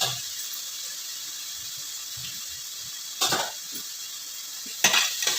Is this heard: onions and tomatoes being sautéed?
yes